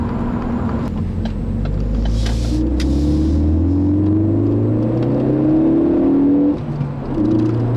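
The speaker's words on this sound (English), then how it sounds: "they installed some kind of intake noise that creates an artificial sound" A steady 2013 Ford Focus ST engine hums and rises in pitch as it accelerates, a low droning rumble with a layered synthetic-sounding growl from an artificial intake sound throughout.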